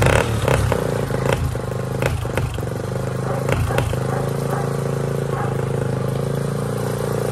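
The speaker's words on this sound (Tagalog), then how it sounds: "Sindihan na natin motor." A motorcycle fitted with a modified exhaust and premium gears runs close by, its steady, throaty idle punctuated by a few clattering bursts near the start before it settles into a constant drone.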